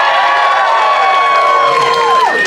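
A comedy club audience cheers loudly and steadily for a couple of seconds, with whoops and shouts blended into one dense roar and no talking over it.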